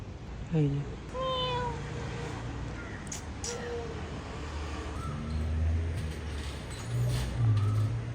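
A cat meows several times in clear, rising calls during heavy rain in Ahmedabad, with voices talking in the background and a steady low rumble throughout.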